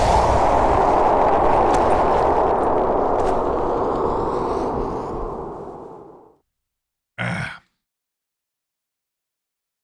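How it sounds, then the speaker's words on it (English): A laser weapon fires in the shooter game Trepang2, a loud, roaring, sustained blast that slowly fades over about six seconds, followed by a short sharp burst after a pause. "Firing the laser."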